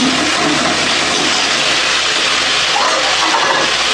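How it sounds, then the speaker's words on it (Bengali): Water is poured in a continuous loud rush into a pot of cooking curry, a steady splashing hiss that lasts the whole four seconds. "জল দিয়ে দিলাম ঝোলটা ফুটুক"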